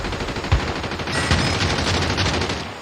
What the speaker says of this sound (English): That's an OP shot from the part of TR Smith using an AK with such a range.